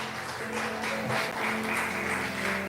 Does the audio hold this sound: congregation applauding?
yes